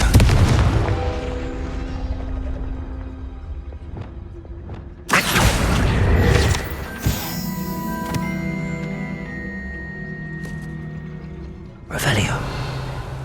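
Fiery Confringo spell blasts from Hogwarts Legacy burst loudly in a few separate booming hits with ringing, crackling tails, while a voice speaks between them.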